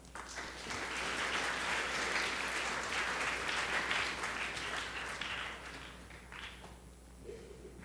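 A school morning meeting audience applauds to welcome a guest speaker, a full room of steady clapping that swells quickly, holds, then thins and fades out.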